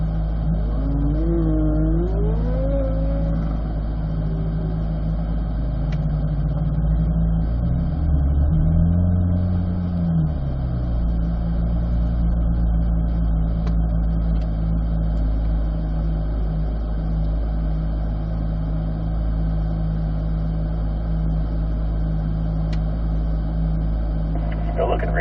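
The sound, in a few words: car engine revving during an autocross run through cones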